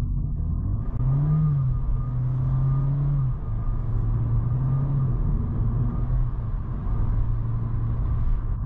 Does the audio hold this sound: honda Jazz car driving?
yes